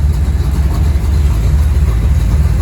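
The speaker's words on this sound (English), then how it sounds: "Idling at about 750 right now. It'll warm up." A Chevrolet Bel Air gasser's engine with a new Holley carburetor idles at about 750 rpm, steady with a deep, low rumble, even and continuous throughout with no voices.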